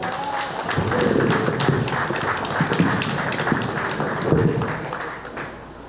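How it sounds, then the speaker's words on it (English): A crowd claps steadily in a community centre, a dense, even wash of applause that carries on for several seconds before tapering off at the end. "Let's do it again. A better round of applause."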